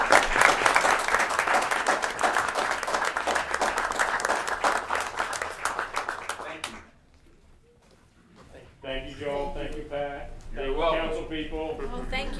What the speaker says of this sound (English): How about a round of applause for Carly?